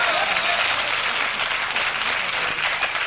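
A television comedy show's studio audience applauds: loud, continuous, even clapping from a large crowd that fills the whole stretch.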